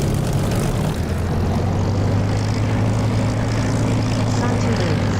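Steady, loud aircraft engine drone from the DCS flight simulator, a continuous low propeller-like hum that runs unbroken throughout, with a voice talking over it.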